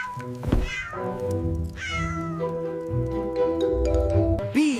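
An Abyssinian cat meows in a string of drawn-out, tonal calls, close and clear, with no talking.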